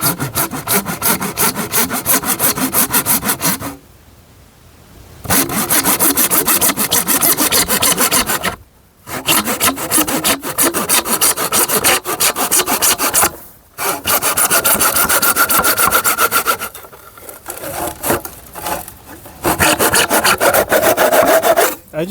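A hand saw in a miter box cuts through pipe with loud, close back-and-forth rasping strokes, coming in several runs separated by short pauses.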